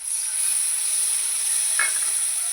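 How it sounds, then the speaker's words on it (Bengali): Tamarind water is poured into a pan of hot mustard for a sour small-fish curry, giving a loud, close, steady sizzling hiss that lasts throughout with no talk. "তেঁতুল গুলিয়ে এখানে একটা তেঁতুল গোলা জল করে রেখেছিলাম এই জলটা আমি এর মধ্যে দিয়ে দেবো"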